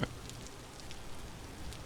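Steady downpour of heavy rain in the video game Vintage Story, a dense even hiss with faint scattered drops, heard alone and fairly quiet.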